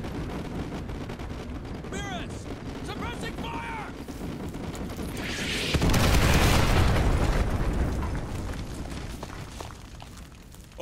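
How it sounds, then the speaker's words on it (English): Artillery strike explosions in Call of Duty Modern Warfare arrive as a heavy, sustained rumbling boom that swells and slowly fades, over steady battlefield noise with a few chirping radio-like tones before it. "Fire mission received. Artillery inbound."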